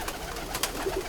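Ferozpuri Banke pigeons coo softly and close by in a short burst, with a faint background hum and no talk.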